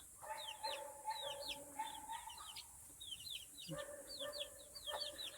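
Chicks squabble over a praying mantis they are tearing apart, giving rapid high peeping cheeps in dense overlapping bursts with a short pause midway, close and moderately loud with no talk.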